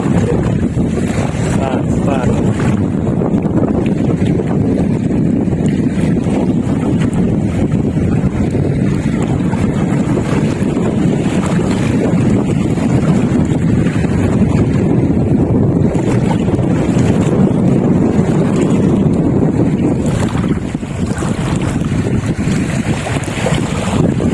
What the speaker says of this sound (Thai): ลมก็แรงนะครับคลื่นก็แรงเหมือนกัน